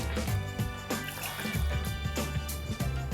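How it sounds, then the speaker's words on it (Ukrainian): Water is poured from a cup into a pot of dry buckwheat in a home kitchen, a steady splashing stream with clattering, gurgling bursts throughout, close and continuous. "висипаю в кастрюльку і додаю туди воду"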